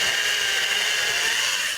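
A chainsaw cuts into ice for a sculpture, a loud, steady high-pitched whine and rasp held at close range without a break.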